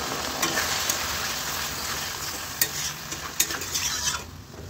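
Vegetables sizzling in a pan after a splash of water, a steady close hiss punctuated by a few sharp spatters and stirring scrapes, easing off toward the end, with no voices.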